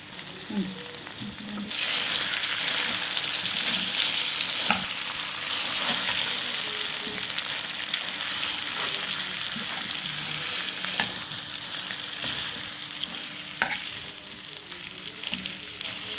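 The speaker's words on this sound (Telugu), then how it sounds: "ఇప్పుడు ఇది పోపులోకి కలిసేలాగా బాగా కలుపుకోవాలండి" Raw plantain curry being stirred into a spiced oil tempering, a continuous sizzle with repeated spoon scrapes and clinks against the pan, close and steady, no talk.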